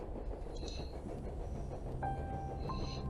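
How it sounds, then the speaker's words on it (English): Steady low rumble of a train gathering speed inside a horror video game, a continuous rolling drone with faint rising mechanical whines over it and no voices. "The train's picking up speed."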